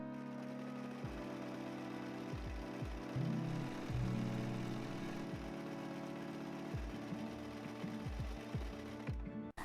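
A sewing machine runs with polyester thread on a dropped-shoulder blouse, humming steadily for nearly ten seconds with a rhythmic mechanical whir and small pitch shifts as the speed changes.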